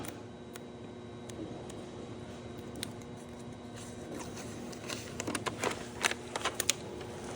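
Backing paper peeled off an adhesive screen printing sheet in a print shop, heard as faint crackling and sticky ripping that grows into sharper, louder tearing bursts near the end, with no talking.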